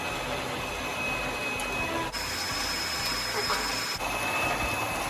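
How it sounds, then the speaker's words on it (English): Electric mixer whisking fairy cake batter in a bowl, a loud continuous buzzing whine with high tonal hum, briefly dipping twice as the beaters shift. "And we whisk it."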